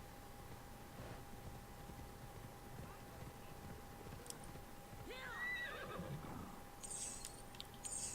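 A horse in Assassin's Creed Odyssey lets out a clear whinny, with hoof clip-clops close by, over a steady game background hum and no talk.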